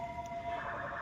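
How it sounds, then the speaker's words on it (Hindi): A police car siren passes on a street in Helsinki with a steady, wailing tone. It sounds moderately distant over light street noise. "और इसके साथ ही वो जा रही है पुलिस की गाड़ी।"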